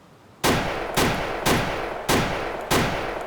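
Five loud video game gunshots ring out one at a time at roughly even intervals, each with a short echoing tail, with no voices.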